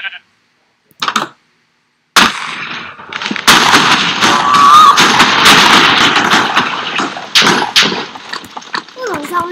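A sudden loud blast bursts out of near silence, followed by several seconds of rumbling, crackling and splashing debris noise with a few sharper bangs, while voices are heard faintly around it.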